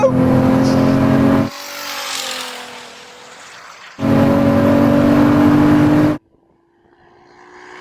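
A 3,000hp SUV and a Ferrari SF90 accelerate hard in a drag race, two loud bursts of rising engine roar with a gear change, separated by a quieter lull and ending abruptly.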